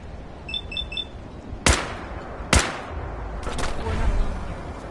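A few sharp, isolated gunshots crack in Fallout 4's Far Harbor, fired into fog at attackers. A short electronic beeping comes first, then two distinct loud shots a second apart and fainter reports amid low ambient rumble.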